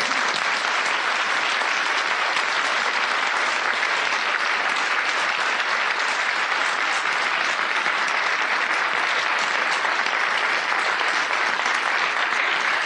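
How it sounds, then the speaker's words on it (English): Sustained, dense applause from a large audience at a library leadership membership meeting, loud and unbroken for nearly thirteen seconds, with many people clapping together. "Now, can we give them all a round of applause?"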